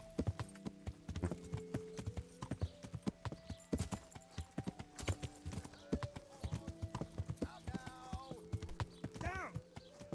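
Horse hooves clip-clop at an irregular trotting pace in the medieval video game Kingdom Come Deliverance, with a short whinny near the end and a voice briefly heard.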